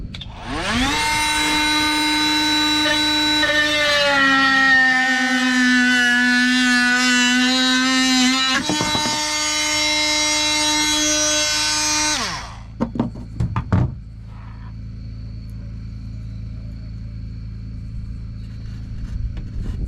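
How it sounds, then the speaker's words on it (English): An oscillating multi-tool cuts a piece for a bathroom sink with a loud, buzzing whine that dips in pitch as it bites and runs for about twelve seconds, then stops and leaves quiet room tone with a few clunks. "So I'm gonna go ahead and get that piece cut now with the oscillating tool."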